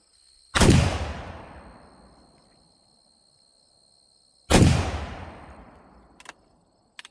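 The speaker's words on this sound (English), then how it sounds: "I'm going to shoot at the piece of cardboard towards the top with the first barrel" An antique Belgian 12 gauge shotgun fires two loud, sharp blasts outdoors a few seconds apart, each trailing off in a long echo, then a couple of faint clicks follow.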